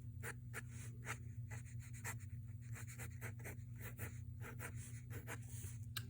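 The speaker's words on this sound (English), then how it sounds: "So first on this one you draw leaves." A pencil sketching leaves on paper, with quick close scratchy strokes in an irregular rhythm over a low steady hum, faint, no voices.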